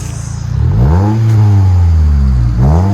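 A 2010 Toyota Matrix S with a five-speed manual and a Borla Pro-XS exhaust revs up close, its deep tone climbing sharply, holding, then dipping and rising again in a second blip.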